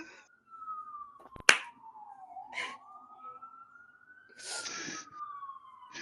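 A thin, wavering siren tone slides slowly up and down, broken by sharp clicks and short bursts of noise, fairly quiet overall.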